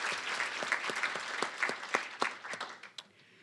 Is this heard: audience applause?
yes